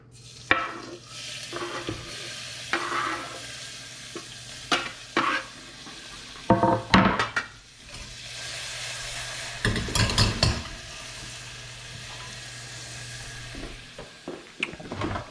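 Chilies, ginger and coriander sizzle and fry in a pan for wing sauce, a steady close hiss broken by repeated bursts of stirring and scraping against the pan.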